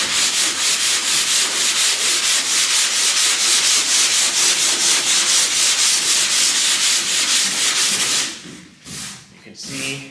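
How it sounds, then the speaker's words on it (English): Hand sanding of poly primer on a panel with sandpaper under light pressure, a steady rhythmic rasping back-and-forth stroke carried close and loud for about eight seconds, then breaking into a few short scuffs. "Now, just light pressure, just enough to make the sandpaper cut."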